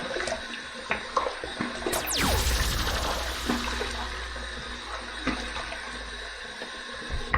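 Water runs and splashes from a tap at a bathroom sink as the face is wetted before a safety-razor shave, with irregular splashes and hand movements over a steady flow.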